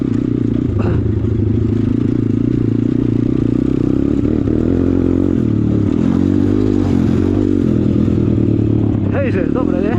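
A motorbike engine runs close and loud in winter, a rough steady drone with clattering and scraping over it, while people talk and shout over the noise throughout.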